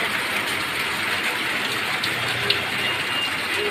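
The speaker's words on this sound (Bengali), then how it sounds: "দেখো সকাল সকাল বৃষ্টি নেমে পড়েছে" Steady rain falls with an even, hissing wash of sound, fairly close and continuous throughout.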